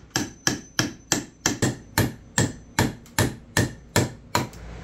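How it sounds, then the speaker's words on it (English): A hammer drives nails through a 2x4 attic header into a rafter joist during an attic ladder install, about a dozen loud, sharp, evenly spaced blows in quick succession, close up with no talking. "I'm going to nail 2 nails through here into this remaining piece of rafter, this joist"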